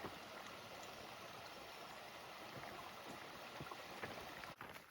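Steady rushing and gurgling of a flowing stream on the Eagle Rock Loop in Arkansas fills the scene, a continuous broadband wash with a faint click near the end.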